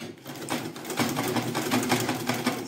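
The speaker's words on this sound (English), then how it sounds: "start sewing." A sewing machine runs steadily up close, its needle chattering in a fast, even rhythm while stitching autogele headtie fabric, with no talking.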